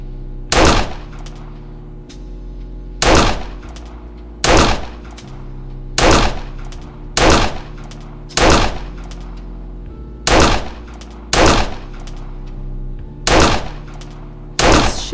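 Eleven evenly spaced gunshots ring out one after another at a small three-lane shooting range in a point-and-click adventure game, each shot loud and sharp with a brief tail, no voices between them.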